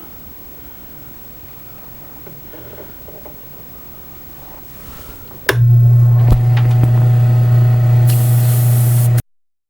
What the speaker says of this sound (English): we'll get started into spraying this